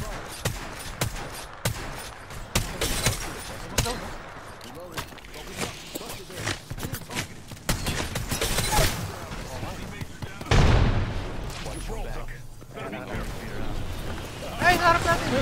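Rapid gunfire bursts and fusillades in the video game Apex Legends, crackling shots and mechanical clatter coming in dense clusters, mixed with excited talk from players.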